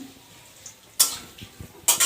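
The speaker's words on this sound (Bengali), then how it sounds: "আর আলুটা ভাজা হচ্ছে" Oil sizzles and crackles in bursts as potatoes fry in a pan, with a couple of sharp stirring scrapes and clatters.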